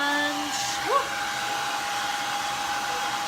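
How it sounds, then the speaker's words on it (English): A hair dryer blows steadily at close range, drying a handmade masquerade craft mask, with a constant whooshing roar and faint tonal whines throughout. "now we'll go ahead again with the blow dryer"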